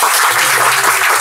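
Audience clapping at a devotional gathering, a dense, steady wash of many hands lasting about a second, loud and close with no voices over it.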